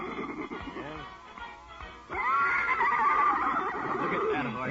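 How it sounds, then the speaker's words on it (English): A horse whinnies in an old radio drama, a drawn-out neigh over a steady background with music, rising and then falling across several seconds. "Look at that horse."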